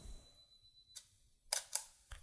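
A camera shutter fires on a long exposure of a dandelion, heard as a soft opening click followed by a pair of sharper clicks and a final click, close and fairly quiet in a still room with no talking.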